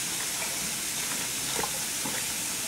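Green cabbage stewing with water in a Cookeo pressure cooker pot is stirred, giving a steady hissing simmer with soft scraping and bubbling throughout.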